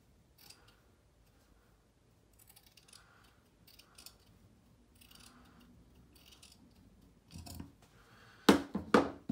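Scissors trim a fabric seam allowance with a few quiet scattered snips and handling rustles, ending in louder, sharper close cuts.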